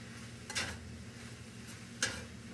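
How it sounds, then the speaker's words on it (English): Meat being stirred back into a vegetable dish for a bean sprout lasagna, with two brief scraping strokes of a utensil against the pan over a low steady hum, close and fairly quiet. "Now you're going to stir the meat back into the vegetable dish."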